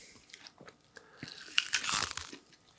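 Someone bites into crunchy honeydew melon and chews, close-up wet crunches building to a louder crisp bite, then softer chewing.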